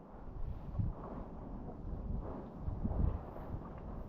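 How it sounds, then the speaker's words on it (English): Strong gusting wind blowing across a rocky mountain quarry route between Elidir Fawr and Y Garn in North Wales, a constant low roaring buffet with surges near one and three seconds, close and loud with no talking. "So hard to walk while the wind is blowing from the sides."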